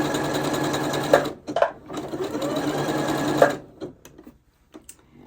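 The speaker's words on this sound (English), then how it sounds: "it started stitching that over right where I was" A Janome Horizon Memory Craft 8200 QC sewing machine stitches out an embroidery design with a steady, close mechanical whir, stopping briefly twice before slowing into a few scattered clicks and quiet.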